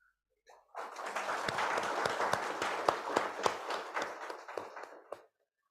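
An audience at a corporate go-live ceremony bursts into applause that lasts about four seconds, with a few louder individual claps standing out before it tapers off.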